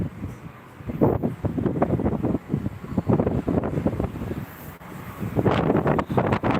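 Gusty wind buffets the microphone outdoors, rumbling in uneven surges and lulls throughout, loud and close with no clear speech.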